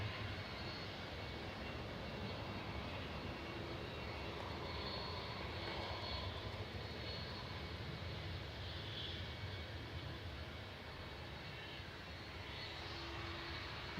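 Jet airliner landing at Manchester Airport with bucket thrust reversers deployed, a continuous moderate engine roar that swells and fades slightly over several seconds, with no talking.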